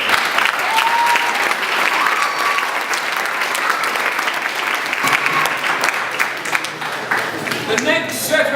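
Sustained audience applause filling a hall at an annual military squadron presentation evening at Woolwich Barracks, steady dense clapping throughout with a faint voice or whistle near the end.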